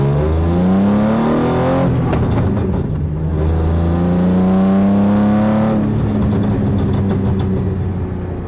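A BMW E36 drift car engine revs repeatedly with a rough, sustained rumble, pitch climbing and falling with a crackling stutter between pulls, close and loud with no talk.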